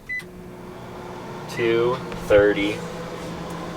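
Microwave oven humming steadily inside a Sprinter van, with a brief high beep near the end and people talking briefly over the drone.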